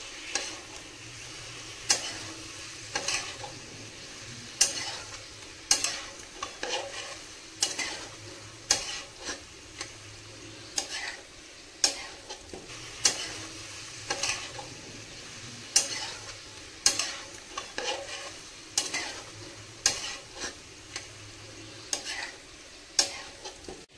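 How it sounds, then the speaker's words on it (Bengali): Garlic paste frying in a pan for a chicken neck, liver and stomach kosha, with a continuous sizzle punctuated by regular sharp scrapes and taps of a spatula stirring against the pan. "রসুনের কাঁচা গন্ধটা যাওয়া পর্যন্ত ভেজে নেব।"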